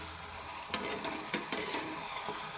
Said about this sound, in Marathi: दोन्ही साईडनी छान तळून घेऊया